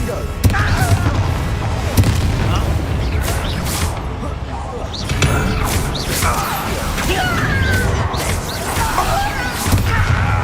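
Confringo fire spell explosions in the Hogwarts Legacy video game: repeated booming blasts and crackling debris in a busy combat scene, with game voices and clanking mechanisms underneath.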